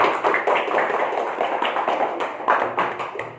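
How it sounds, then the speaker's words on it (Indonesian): Classroom applause for a student group during a teaching practice lesson in an Indonesian school. A short burst of uneven hand clapping, fairly close, pulses steadily for a few seconds. "Tepuk tangan untuk kelompoknya Nesa"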